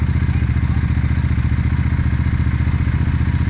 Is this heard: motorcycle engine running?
yes